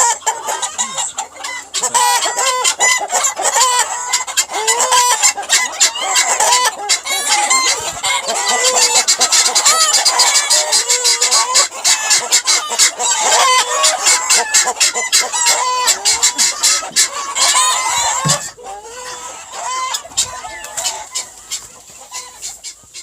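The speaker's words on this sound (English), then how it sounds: "What you were hearing in there was all of the hens and the guineas" Hens and guinea fowl cluck and squawk nonstop inside a farm coop, a dense, loud, overlapping chorus of calls that continues almost throughout, with a brief lull near the end.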